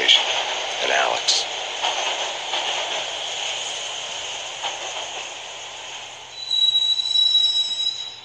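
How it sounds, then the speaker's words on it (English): A subway train riding through the Max Payne Mobile video game, rumbling steadily with metallic wheel squeal that sharpens toward the end, while a voice speaks over it. "the train doors had already shut behind me, and I was in for the ride"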